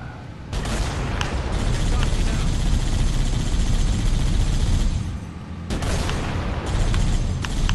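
A tank's main cannon fires in the Halo video game during an assault on the Control Room, with heavy booming blasts and a continuous loud rumble of battle that briefly dips before surging again.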